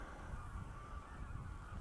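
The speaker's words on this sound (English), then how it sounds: "can you hear the geese flying over there?" Geese honking steadily as they fly over in the distance at the Norfolk Broads, over a constant low rumble of outdoor background noise, with no clear pauses.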